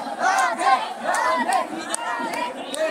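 Dense crowd of devotees during Barsana Holi in Mathura, a continuous mass of overlapping voices, shouts and chants at close range, with some calls rising above the din.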